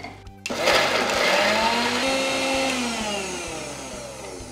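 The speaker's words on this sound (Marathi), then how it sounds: "आता हे मिक्सरमधून आपण फिरून घेऊ।" A kitchen mixer grinder whirs loudly as it blends soaked moong dal with plenty of fresh coriander into a green chutney, starting abruptly after a short pause and holding a steady, close motor drone with a slowly shifting pitch.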